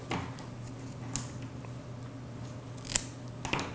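Scissors cut a sunflower stem down short for a floral arrangement, giving a few sharp, quiet snips spaced apart over a soft background hum, with no talking.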